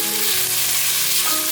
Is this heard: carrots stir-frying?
yes